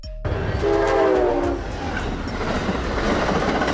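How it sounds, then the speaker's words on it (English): A double-decker train passes close by with a steady, heavy rail rumble, and its horn sounds one long blast near the start before the rolling wheel noise carries on alone. "Double-decker train."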